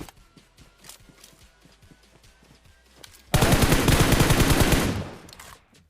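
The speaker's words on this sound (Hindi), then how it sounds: "मैं बॉट को मारता हूँ इस गन से और इसका आवाज़ आप लोग सुने" Gunfire from a powerful gun in the mobile shooter BGMI: quiet scattered footsteps and small clicks, then a sudden loud sustained burst of rapid automatic shots lasting about two seconds before cutting off.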